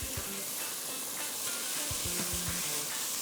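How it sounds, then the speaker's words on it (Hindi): Onions and garlic sizzle in hot oil with a bright, steady hiss, punctuated by soft clinks and stirring taps at irregular intervals. "अब इसमें मैं डाल रही हूँ अनियंस, अनियंस इसमें डालें, और हम इसमें डालेंगे गार्लिक"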